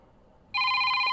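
A telephone rings on a call in a Hindi-dubbed action movie: after a quiet half second, a bright, steady electronic ringtone starts abruptly and continues loud and unbroken to the end.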